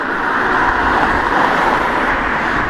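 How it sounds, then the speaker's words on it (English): Steady road traffic rushes past outdoors, a continuous broadband roar of oncoming cars with no pauses, fairly loud and close, heard while walking along a road after a cyclist has gone by. "So we've got some oncoming traffic now, so see what noise levels are like."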